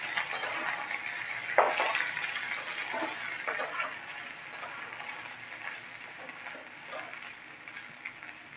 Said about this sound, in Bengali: ঝিঙে যাতে জল না ছাড়ে, হাই ফ্লেম দিয়ে এটা ভেজে নেবেন।